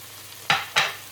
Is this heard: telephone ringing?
no